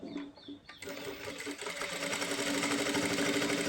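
A sewing machine stitches fabric during a beginner sewing class, starting quietly with a few short bursts and then running in a steady, close, rapid whir that grows louder.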